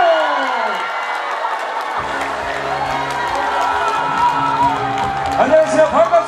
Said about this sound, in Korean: 박수와 함께 만나보도록 하겠습니다.